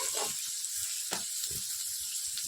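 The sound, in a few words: onions and green chilies sautéing in coconut oil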